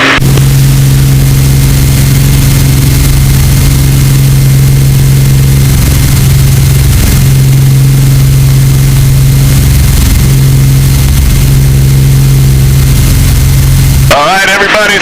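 Small airplane engine running up on a bucket-list flight, a loud steady droning roar with a strong low hum holding for the whole stretch before a sudden change at the very end.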